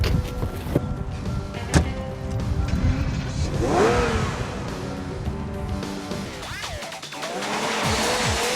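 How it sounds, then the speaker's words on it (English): An Aston Martin with a 6-litre V12 making over 400 horsepower drives close by, engine revving and swelling through gear changes with some tyre noise, loud and continuous, no voices. "Pretty much everything about the Aston is enormous, not just the length and the girth of the thing, but the engine, 6-litre V12, over 400 brake horsepower"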